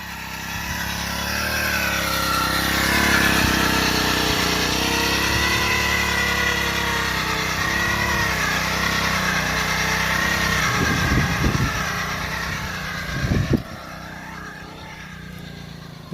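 A machine's engine drones steadily while earthing up soil around 25-day-old soybean plants in a field, a loud continuous hum with a few brief rattles near the end.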